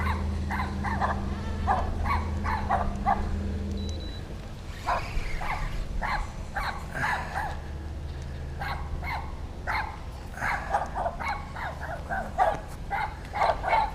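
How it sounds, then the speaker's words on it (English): Several dogs bark repeatedly in quick, uneven bursts at a moderate distance beside a canal, with a low engine-like hum in the background early on. "And now there's these dogs here."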